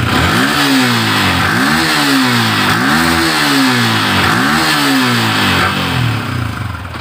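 A Yamaha Vixion motorcycle engine, still cold and puffing white smoke, revs up in four repeated blips that rise and fall, loud and close, ending on a rough idle.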